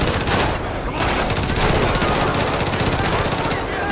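Dense, continuous automatic weapon fire in the GTA 5 video game, loud and sustained throughout with rapid overlapping shots and no clear pauses.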